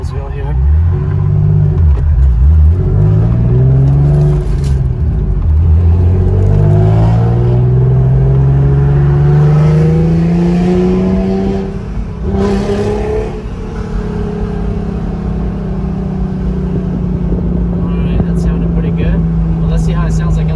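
Car fitted with a Pride exhaust revving inside a tunnel near Old Roseville, loud and close with echoing rises and falls in engine pitch, then settling into a sustained drone; no talk over it.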